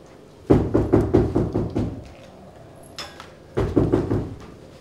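Knocking on a bedroom door comes in two bursts: a rapid run of about seven loud raps, a pause with a faint metallic clink, then a second series of five raps, all close and with no talk.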